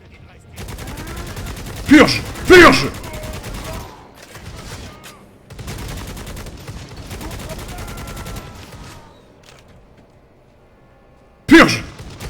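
Gunfire in the video game Necromunda: Hired Guns: sustained rattling bursts of automatic fire come in several waves with loud sharp shots standing out, while a voice shouts briefly over the battle.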